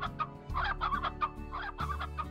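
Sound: hens clucking in video game Slime Rancher

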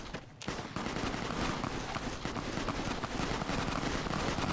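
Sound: gunfire in a video game

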